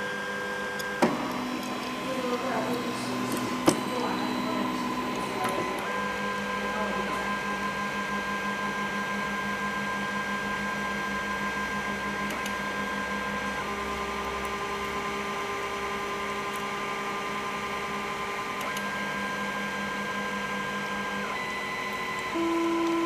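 A Wanhao Duplicator 10 3D printer runs a print job, its stepper motors giving a steady whirring hum with shifting tonal whines as the head moves, plus a couple of brief clicks early on, close and alone.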